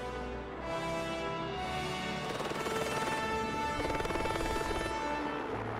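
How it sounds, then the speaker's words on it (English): A steady, loud helicopter drone with rotor chop, continuous and close throughout, with no voices. "we got very, very good at loading in and out of choppers"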